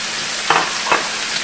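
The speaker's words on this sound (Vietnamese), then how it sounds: "Mình rán tôm ấy" Field shrimp and pork fry in a pan with a constant close sizzle, broken by two short stirring scrapes.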